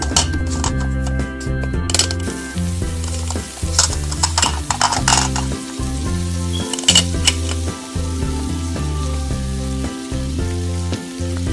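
Toy kitchen playset stove with Minnie Mouse theme giving off a steady electronic sizzling and frying sound while a pepper cooks, mixed with rhythmic stirring and clattering of small toy utensils, loud and continuous with no talking.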